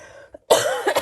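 A burst of harsh, close coughing, two or three quick hacks in a row after a brief breath.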